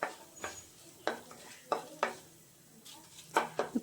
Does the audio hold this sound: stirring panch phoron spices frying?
yes